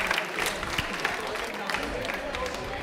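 An audience at a quiz show about Indian Railways applauds, a dense steady patter of clapping hands sustained through the clip under a lively crowd.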